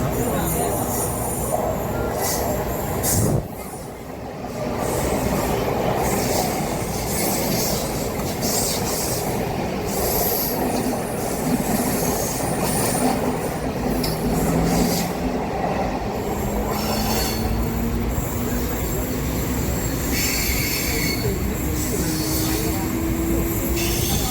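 Mumbai local train running from Lower Parel toward Churchgate, a steady loud rumble of wheels and carriage with a rising wheel squeal and brief rattles throughout, heard from inside the moving train.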